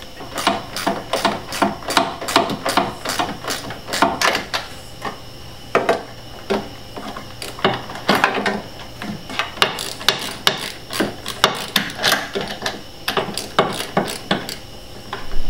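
Repeated sharp metallic clicks and ratcheting come from screws and bolts being driven at an awkward angle while installing a Cobb SF intake on a Subaru STI, close and irregular throughout.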